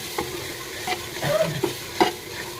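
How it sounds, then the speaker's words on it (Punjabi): Bottle gourd and milk curry being stirred in a pan, quiet scraping strokes of a spoon over a soft background sizzle, a few distinct clinks spaced through the stretch. "ਚੰਗੀ ਤਰ੍ਹਾਂ ਹਿਲਾਈ ਆਪਾਂ ਸਬਜ਼ੀ"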